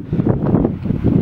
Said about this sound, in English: So this will give you an idea of the wind. Very windy.